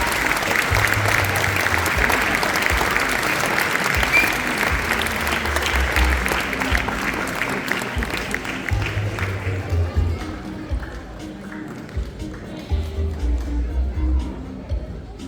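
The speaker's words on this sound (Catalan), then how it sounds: "Un fort aplaudiment pel Consell d'Infants a les escoles de GURB" Audience at the Festa Major de Gurb applauds the children's council of the Gurb schools as they come on stage, sustained clapping with low rumbling thumps, fading slightly toward the end, and a voice briefly talking through it.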